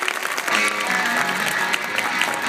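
A crowd at a Consadole Sapporo talk show applauds the club's adviser, manager and players, a steady, dense wash of clapping throughout.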